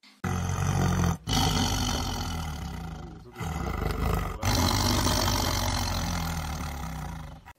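A loud, sustained tiger roar fills the clip in three long bursts separated by brief pauses, close and powerful with a rumbling low growl.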